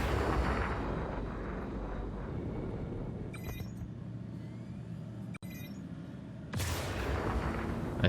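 Star Citizen spaceship weapons and missiles fire during a Constellation versus Corsair dogfight, a dense continuous roar of cannon fire and rumble that briefly cuts out and then surges again, with a few sharp launch bursts.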